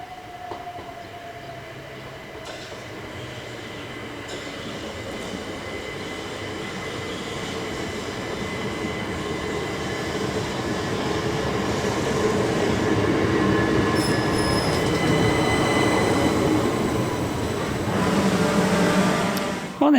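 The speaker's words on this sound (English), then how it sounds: "passenger services are provided by Class 375 electric" A Class 375 electric multiple unit rolls through Martin Mill station on the White Cliffs Line, a steady rising rumble of wheels and motors with brief metallic squeals, building then easing off.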